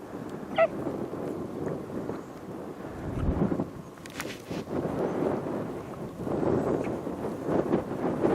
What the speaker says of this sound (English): we got 40-mile-an-hour winds